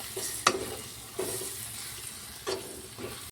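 Washed capsicum tipped into hot, oily masala in a pan for shimla mirchi sabji, with a steady frying hiss and a few sharp scraping stirs at intervals, close and moderately loud, no voices.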